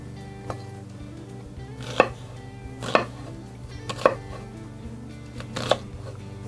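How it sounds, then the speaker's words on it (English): Sharp knife chops on a cutting board while chopping onions, a handful of spaced strikes with quieter cutting between them, close by and steady. "Now back to chopping."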